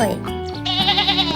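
A sheep bleats once in a long, wavering call, close and fairly loud, with a clear harmonic tone that rises in intensity midway and holds to the end.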